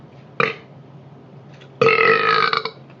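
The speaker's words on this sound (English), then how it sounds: "Burp time." A loud, close human burp, a short gulp followed by a longer rasping belch lasting most of a second, in an otherwise quiet room.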